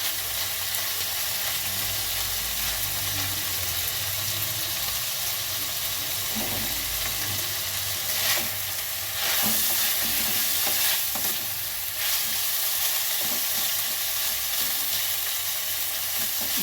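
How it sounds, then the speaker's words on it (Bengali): Broccoli lightly frying in a pan crackles in a continuous close sizzle, with a spatula stirring and scraping now and then and a few louder bursts partway through, no talking. "ব্রোকলিটা আমি একটু হালকা করে ভেজে নেব।"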